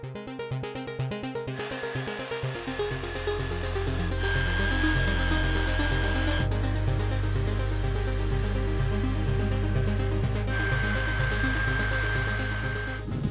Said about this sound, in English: You can use an inexpensive random orbital buffer to take the hard work out of buffing off the polish